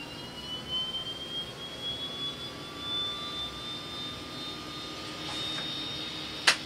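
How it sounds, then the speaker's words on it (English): The right-hand propeller engine of a Twin Otter spins up as it unfeathers, a rising whine climbing steadily over a low engine rumble, with a sharp click near the end. "We're going to start up the right hand engine first, just to see if we get any thrust as it unfeathers."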